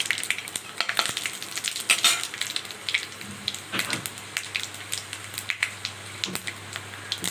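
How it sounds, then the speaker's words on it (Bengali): Panch phoron and dried red chilies crackle and sizzle in hot mustard oil for a vegetarian raw-banana dish, a steady close frying hiss broken by sharp pops and spits, with no talking. "পাঁচফোড়ন, শুকনো লঙ্কা ঢেলে দেবো।"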